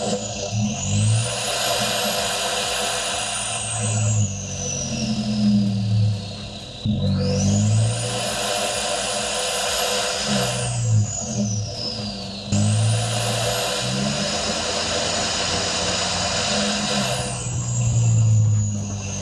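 Turbo diesel truck fitted with a snorkel drives past in repeated runs, its deep engine note rising and falling with each acceleration and a high turbo whistle and flutter on every throttle lift.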